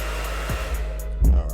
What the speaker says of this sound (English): The old hair dryer still gets super hot.